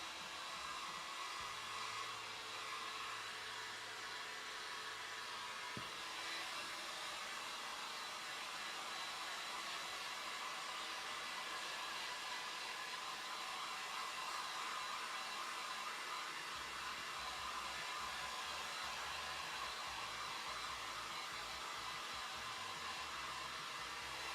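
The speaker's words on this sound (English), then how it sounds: "give it a bash with the heat gun to melt any of the excess" A heat gun blows with a steady, even whir for the whole stretch to melt excess glue off a scaled lizard-foot craft piece, with no talking.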